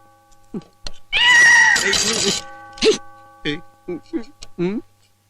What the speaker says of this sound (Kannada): ನಿನಗೇನಾದ್ರು ಬೆಕ್ಕಿನ ಶಬ್ದ ಕೇಳಿಸ್ತಾ?